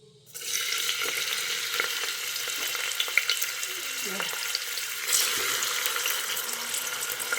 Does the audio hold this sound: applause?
no